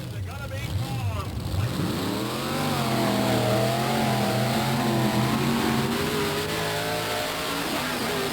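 Monster truck engines of Bigfoot and King Kong roaring at a 1990 TNT Monster Trucks show in Bowling Green, Ohio, a loud sustained rising growl that holds steady throughout, with an announcer's voice over it.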